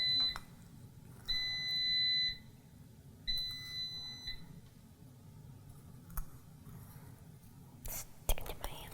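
An air fryer signals that it is ready with three clear, evenly spaced electronic beeps, each about a second long. Soft, quiet talk sits underneath, followed by a few clicks and handling noises.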